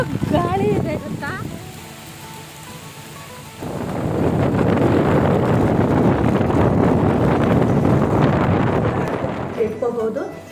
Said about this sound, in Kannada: ಎಂತ ಗಾಳಿ ಇದೆ ಗೊತ್ತಾ, ಮೂರ್ಕೊಂಡು ಹೋಗೋಷ್ಟು ಗಾಳಿ ಇದೆ ಗೊತ್ತಾ.